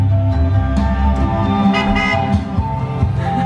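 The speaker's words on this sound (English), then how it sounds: "They're honking." Several car horns honk from passing vehicles in a street drive-by celebration at Christmas, a dense run of overlapping toots that stay loud and continuous over steady traffic rumble.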